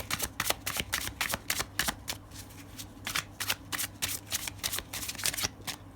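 Tarot cards shuffled in rapid, repeated riffling bursts, crisp and close, with brief pauses between runs.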